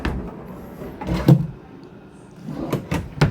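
Dresser drawers in a 2024 Thor Motor Coach 37DS motorhome slide and bump shut, giving a few close, soft wooden thuds and rattles spread over a few seconds indoors.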